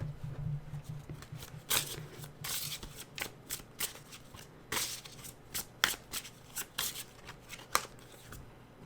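Tarot cards are shuffled by hand in quick, soft riffling bursts that repeat in an uneven rhythm. The sound is close and quiet against a faint background hum.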